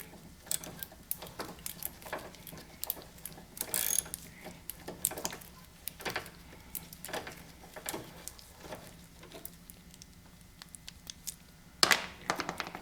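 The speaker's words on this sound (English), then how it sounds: "So I'm just going to release this screw on this here." A ratchet loosens a screw during alternator removal on a 2007 Honda Fit, giving quiet, irregular bursts of clicking spread across the stretch with pauses between them.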